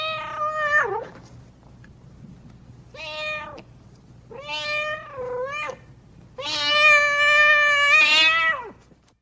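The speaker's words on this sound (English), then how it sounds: "It's a cat" A cat meows four times in separate drawn-out calls, the last one long, loud and wavering like a wail, heard close with no talk over it.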